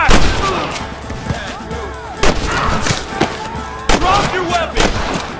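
Gunfire rings out in a Red Dead Redemption shootout, with sharp repeated shots and booming blasts at irregular intervals, clustered into loud bursts near the start, middle and end, over a constant background of battle noise.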